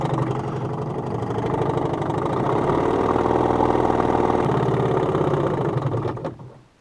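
A 1965 Evinrude Lightwin outboard motor idles with a steady, buzzy putter for several seconds, then fades out as the engine cuts off.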